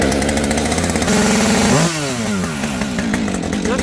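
Chainsaw engine warming up after a choke start, used for clearing brush and small trees; a loud, steady two-stroke drone with a brief rev and pitch sweep near the middle, running alone without speech.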